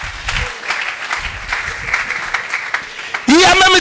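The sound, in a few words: church congregation applauding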